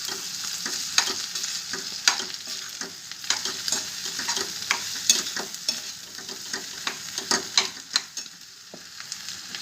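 Food stirred in a frying pan, a close sizzle broken by repeated sharp scrapes and clicks of a spoon against the pan at an uneven, busy rhythm.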